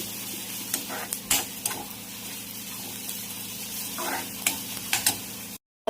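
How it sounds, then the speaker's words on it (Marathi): Ginger, garlic and coriander paste frying with onions in a pan, giving a steady close sizzle broken by repeated scraping stirs of a spoon. "मी आता त्याच्यामध्ये आलं लसूण आणि कोथिंबीरची पेस्ट टाकते. आणि पेस्ट पण छान आता परतून घेते कांद्यासोबतच."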